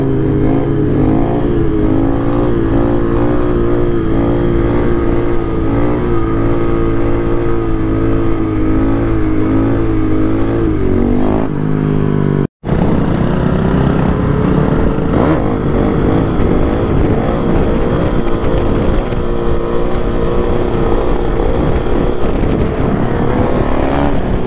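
A Yamaha WR450 dirt bike engine revs and rides hard, loud and close, its pitch rising and falling through gear changes, with a brief cut partway through.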